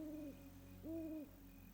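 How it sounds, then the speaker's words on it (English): An owl hoots at night in two long, wavering calls, the second slightly stronger, separated by a short pause against a quiet, faintly hissing background. "An owl calls,"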